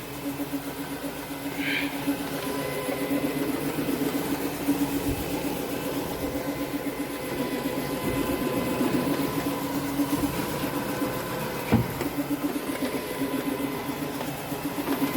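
Continuous mechanical whir of a counter-rotating brush machine scrubbing carpet during encapsulation cleaning, a steady motor hum with brush rumble and a few small knocks throughout, close and fairly loud, no talking.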